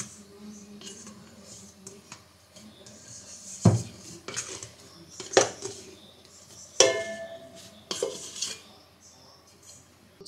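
Bread dough scraped out of a bowl with a dough scraper: soft scraping and scuffing with several sharp knocks and clanks of the scraper against the bowl, close by and irregular.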